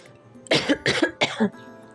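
A person indoors on a very cold day gives three harsh coughs in quick succession, close and fairly loud, with quiet pauses before and after.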